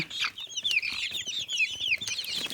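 A group of Brahma chicks in a coop gives a dense, continuous chorus of high peeping and soft clucking, close and lively with no talk.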